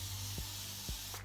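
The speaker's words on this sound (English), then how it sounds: "I'm just going to take a spray bottle of water just to reactivate the product I already put in it." A spray bottle of water misting onto hair during a wash-and-go styling routine, two quick close sprays in succession followed by the start of a third, over a steady background hiss.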